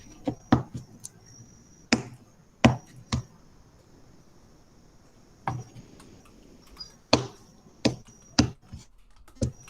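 Playing cards are shuffled during a tabletop Magic game session, giving sharp, brief riffling snaps and taps in irregular clusters, close to the microphone in an otherwise quiet room.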